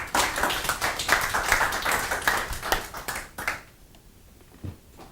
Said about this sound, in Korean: 박수로 좀 맞아주십시오.